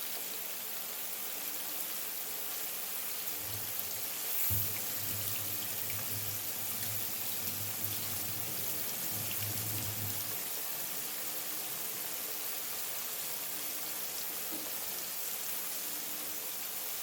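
Breaded shrimp fry in hot oil with a soft, continuous sizzle and crackle, fairly faint and close, with a few louder bubbling bursts in the middle.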